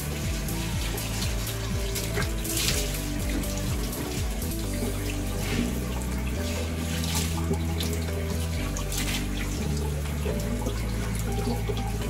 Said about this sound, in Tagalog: then banlawan na po natin.